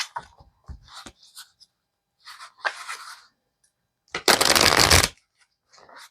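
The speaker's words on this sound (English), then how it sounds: "I'll wake them up with a few shuffles." Tarot cards are riffled and bridged in several bursts, ending in a long, loud flutter of shuffling, close up with short pauses between.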